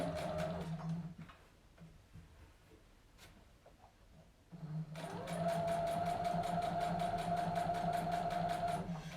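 Sewing machine stitching a seam in white thread onto black bias binding, running in steady bursts with a pause midway, then a longer fast continuous run with a rapid needle rhythm and motor whine.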